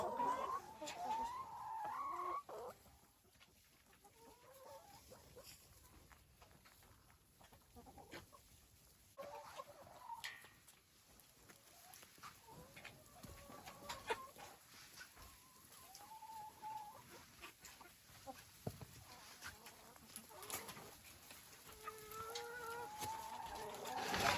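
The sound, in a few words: chickens clucking in a barn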